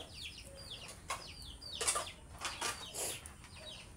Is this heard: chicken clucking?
yes